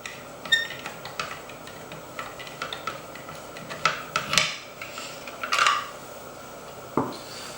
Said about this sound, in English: this is where the larger flathead screwdriver comes in, and we unscrew that